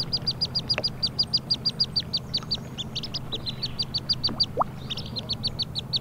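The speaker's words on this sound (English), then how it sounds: "Oh my god, baby duck." A duckling peeps rapidly and high-pitched in quick bursts, close by and insistent, over a low steady hum.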